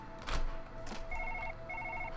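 A telephone rings indoors with two short bursts of rapid electronic trilling, moderately loud and close, after a couple of dull knocks and handling sounds.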